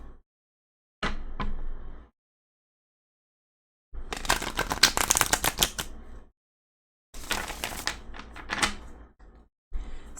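Tarot cards are shuffled in short bursts of riffling and flicking, three or four separate rounds with quiet pauses between them, close and crisp with no speech.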